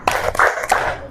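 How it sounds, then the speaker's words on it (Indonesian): Hands clapping the 'tepuk sukses' chant in a Grade 4 Indonesian classroom, a short burst of several sharp claps in a quick rhythm, close and fairly loud with no one talking. "Sekali lagi, tepuk sukses."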